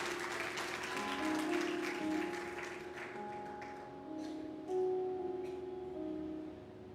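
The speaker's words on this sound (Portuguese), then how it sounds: "Dê uma salva de palmas ao Senhor." A church congregation applauds during a service, a quiet patter of clapping from many hands under sustained organ or keyboard tones that fade toward the end.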